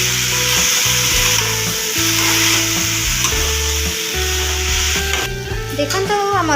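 Chopped tomatoes frying with masala in a hot pan, a loud continuous sizzle broken by scraping, rhythmic stirring strokes close up.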